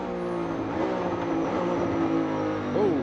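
NASCAR Cup race car sliding through a bumpy corner of the Texas Grand Prix road course, a steady engine drone with tonal harmonics and a brief pitch sweep near the end, moderately loud and without talk.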